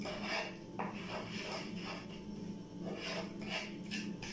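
Soy sauce, vinegar and sugar sauce being stirred in a pan, with repeated scraping and rubbing strokes of a utensil against the metal in a steady rhythm, close and moderately loud, no talking.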